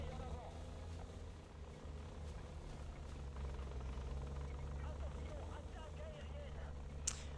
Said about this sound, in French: quand j'entends l'hélico, je me sens pas bien